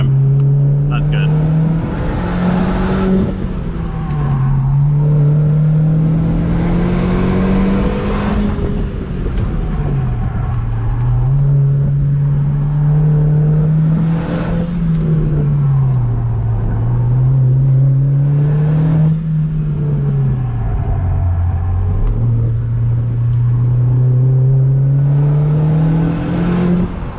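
A modified car accelerates hard on the Lime Rock circuit, its loud engine note climbing and dropping through several long pulls as gears change, close and continuous for the whole stretch.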